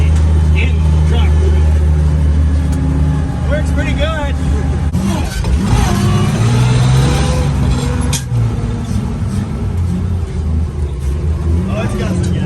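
An old truck engine drones steadily as it rolls along the road, loud and rumbling throughout, with someone talking briefly over it.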